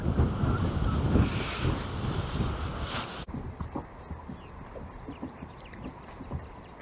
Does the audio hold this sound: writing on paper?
no